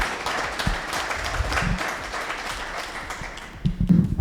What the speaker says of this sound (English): So let's clap for him as he comes to the stage.